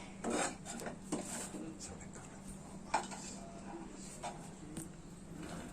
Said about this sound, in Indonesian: Aduk-aduk sampai benar-benar panas dan jangan sampai gosong.